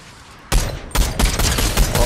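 Gunfire in the video game Fortnite: a sudden burst of rapid shots starting after a quiet moment, several loud cracks in quick succession continuing to the end.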